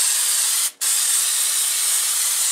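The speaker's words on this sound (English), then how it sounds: "Next thing I like to do is spray it down with some brake clean." Aerosol brake cleaner sprayed onto a Honda Odyssey front brake rotor, a loud continuous hiss broken by one brief pause before spraying resumes steadily.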